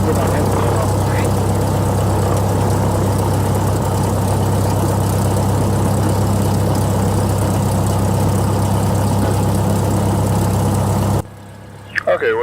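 A small training aircraft's propeller engine idles with a steady, loud low drone that runs unbroken and then cuts off sharply near the end, with talk underneath.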